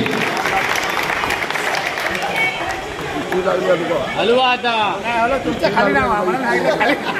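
Audience at a devotional bhajan programme in Dombivli applauds a raffle winner, loud clapping and crowd chatter rising through the second half over a steady murmur of voices.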